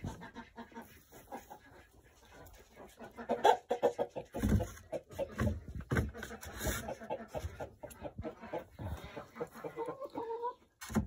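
Hens cluck and squawk in a coop, in irregular close bursts with some faint livestock noise around them.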